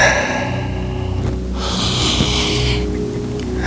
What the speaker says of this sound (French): on venait prendre une grande respiration